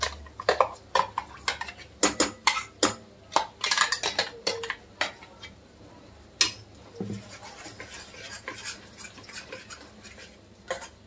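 Ground masala paste for chole goes into a pan and is stirred, with a close series of sharp metallic clinks and scrapes of a spoon against the pan in an irregular rhythm.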